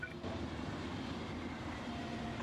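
A train saw in the modded factory game Factorio, Nullius mod: a steady, loud mechanical rumble with a low engine-like drone, running continuously and alone.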